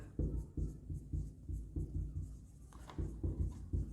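Marker or chalk writing on a classroom board during an accounting lesson, a run of short rhythmic scratching strokes, close and moderately loud, with a brief pause before the strokes resume.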